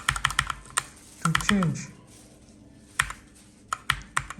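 A mechanical gaming keyboard with blue or red switches, from an Acer Predator Aethon 500 versus HP Pavilion Gaming Keyboard 800 comparison, gives sharp close clicky keypresses in quick bursts and isolated taps, with someone briefly talking.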